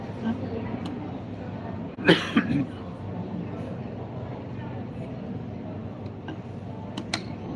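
A single short cough bursts out near the start, then low steady background hum continues with a faint click or two.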